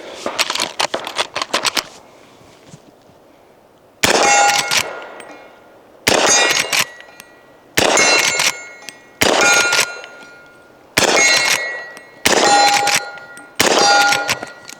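A Henry Big Boy steel carbine in .327 Federal Magnum fires at steel targets: a quick opening burst, then about six loud, evenly spaced shots, each followed by a ringing metallic clang from the struck steel.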